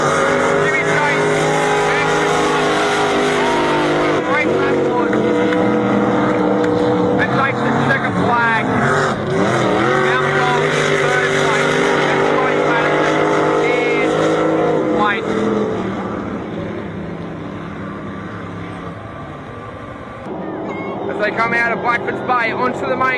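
Powerboats racing on a lake, engines whining and rising and falling in pitch as they pass, loud and continuous beneath excited race commentary.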